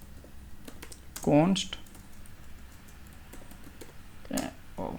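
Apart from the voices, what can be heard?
typing code on a computer keyboard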